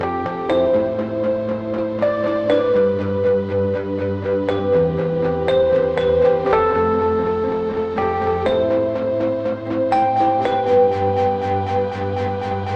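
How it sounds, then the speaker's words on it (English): Electric piano chords layered with a pulsing, rhythmic synth line, playing a steady looping pattern with no voices. "I've got electric piano right here, and I'm going to combine it with a synth"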